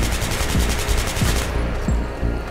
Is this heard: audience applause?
no